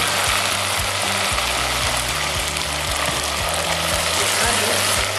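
A very concentrated pepper mix frying in a pot for a stew, a loud continuous sizzle and bubbling hiss with a low rhythmic mechanical hum running beneath it.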